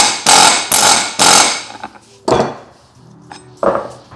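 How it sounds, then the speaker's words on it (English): An air hammer taps a bearing onto a BMW E46 driveshaft during a rebuild: three loud, close bursts of rapid pneumatic hammering, then two shorter bursts separated by quieter metallic handling noises. "I'm gonna use the air hammer again."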